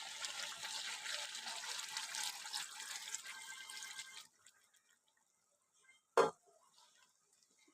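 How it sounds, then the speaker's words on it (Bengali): Water is poured into a pot of chicken curry with potatoes, a steady splashing pour for about four seconds that cuts off, followed by near silence and a sharp knock or clatter. "এবার অল্প জল দেব।"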